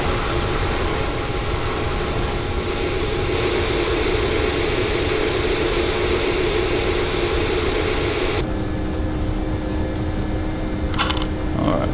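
MD-80 jet engines roar steadily on departure from San Francisco in the X-Plane 10 flight simulator, a loud broadband whine that drops in level partway through, with a few faint clicks near the end.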